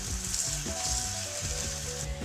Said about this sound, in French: ensuite sur la cuisson, on continue à surveiller